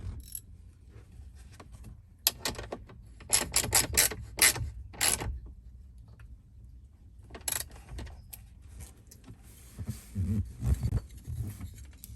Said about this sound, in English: Get some wrenches to tighten that.